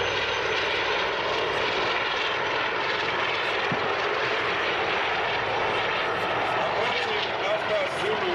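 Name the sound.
Mi-24 attack helicopter flying over parade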